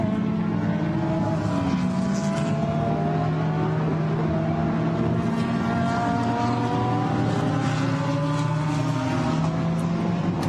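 GT race cars in a Blancpain GT Sports Club race at the Barcelona circuit, several engines droning together with rising and falling pitches as they pass, steady and continuous over ten seconds with no talk.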